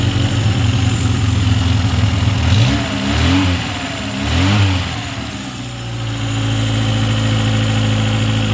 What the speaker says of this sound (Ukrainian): Мотор